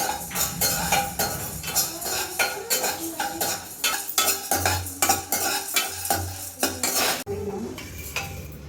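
Prawn thokku roasting over a slow flame, with a metal spoon repeatedly stirring and scraping the pan in an irregular rhythm over a soft sizzle, close and steady.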